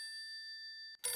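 A telephone rings in a home, a single bright electronic tone held steadily for nearly a second, followed by a short gap and a burst of louder broadband noise, with no talk.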